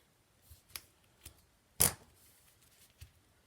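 Adhesive tape is torn and pressed onto an inside flap of a cardboard box in a quiet room: a few faint crackles and short rips, then one louder, sharp tearing burst, followed by softer taps.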